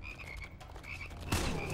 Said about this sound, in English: I'm destroying some frogs.